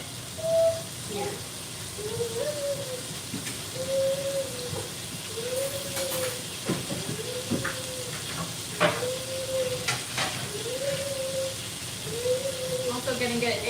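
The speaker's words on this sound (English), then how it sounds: "It's starting to sizzle really good." Meat for fajitas sizzling in a hot pan: a soft, steady frying hiss runs underneath while a person talks nearby, with occasional louder crackles and bumps from the cooking.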